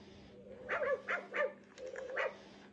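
A small puppy lets out a quick string of soft yips and barks in two short bursts, faint and close in a quiet indoor room.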